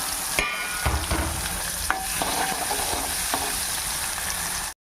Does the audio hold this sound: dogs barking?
no